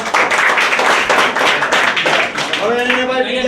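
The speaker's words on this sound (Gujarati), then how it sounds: "તાળીઓથી વધાવી લઈએ" A burst of steady clapping from a group at a Hanuman Jayanti event where children recite the Hanuman Chalisa, dense and continuous, with a voice starting to speak as it fades near the end.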